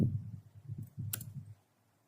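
Ctrl N keyboard shortcut pressed on a computer keyboard: a single sharp key click sits over low, muffled thumping, then silence.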